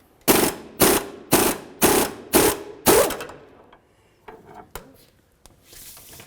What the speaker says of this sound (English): I'm going to take a swivel socket 18 with an extension and my 1/2-inch air gun